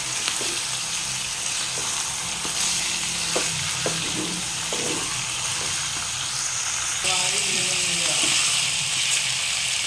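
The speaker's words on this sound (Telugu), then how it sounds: "చికెన్ బాగా వేసుకుందాం వాటర్ వాటర్ వస్తుంది కదా ఈ వాటర్ మొత్తం పోయేదాకా వేసుకోవాలి" Chicken frying and being stirred in a pan while its released water cooks off, a loud continuous sizzle with repeated scraping stirs close by, with a voice speaking over it at times.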